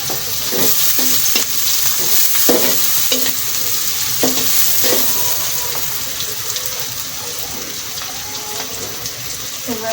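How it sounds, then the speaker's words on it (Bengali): Sliced onion frying lightly in hot oil for a Bengali ilish fish curry with bottle gourd, a steady sizzle broken by repeated scrapes and clacks of a spatula stirring the pan, close and fairly loud throughout. "পেঁয়াজটা আমি হালকা করে একটু ভেজে নিচ্ছি।"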